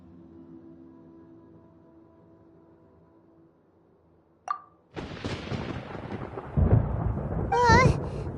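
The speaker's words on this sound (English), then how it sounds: "Paimon hears thunder!" Thunder in the video game Genshin Impact: a short crack, then a loud, sustained rumbling roll that builds and stays heavy through the second half, with game sounds layered over it.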